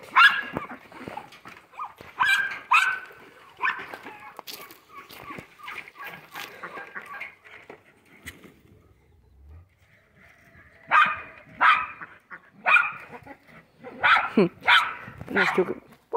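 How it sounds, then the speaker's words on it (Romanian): Several female dogs bark in excited bursts, close by in an evening farmyard with poultry, with yips and whines between volleys and a brief lull midway. "Cățelele și ele aici entuziaste, că mă văd, vor să le dau drumul."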